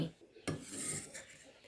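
A knife slicing fresh turmeric root into small thin rounds on a board while preparing a northern Thai curry paste, with a few soft cutting and scraping strokes, one sharper chop near the start, close and quiet.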